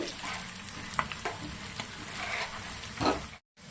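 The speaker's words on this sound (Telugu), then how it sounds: "తాలింపు మంచిగా యాగాలి." Mustard seeds, cumin and dried red chillies sizzle and crackle as they temper in hot oil for mango pulihora, a close, continuous frying hiss with small pops and one brief dropout near the end.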